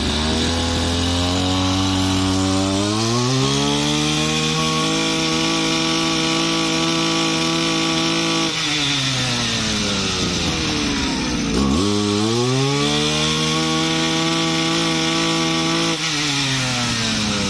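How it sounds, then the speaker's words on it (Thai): A small two-stroke engine on a used Japanese Kyoritsu RM24 brush cutter runs continuously, buzzing loud and close, its pitch rising and falling as the throttle is revved up and eased off. "เสียงก็ไม่ดังมากนะ เสียงก็ไม่ดังเท่าไหร่"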